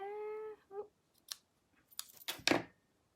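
Scissors trim a ribbon bow on a handmade wedding card, with a few sharp, close snips and rustles following a short tonal hum at the start.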